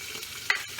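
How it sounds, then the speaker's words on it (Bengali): Tangra fish sizzle and spit as they fry in a pan, a brief bright crackle with two sharper pops, close and clear, with no talk. "ট্যাংরা মাছটা এদিকে ভাজা হচ্ছে, ফুটছে টকবক করে আওয়াজ পাচ্ছি।"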